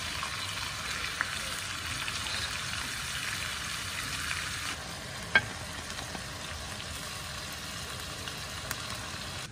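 Prawns frying in oil in a pan for a karahi give off a steady, fairly quiet crackling sizzle throughout, with a single sharp clink partway through.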